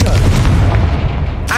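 Confringo blasting spell going off in Hogwarts Legacy, a loud booming blast with heavy low rumble that fills the whole moment, ending in a sharper burst.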